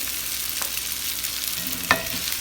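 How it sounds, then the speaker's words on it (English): Bite-sized sausage pieces fry in a pan with a steady broadband sizzle, broken by a few faint clicks and one sharp utensil knock near the end; no one speaks. "I like to cut them, as you can see, into bite-sized pieces, and I fry them nice and fried"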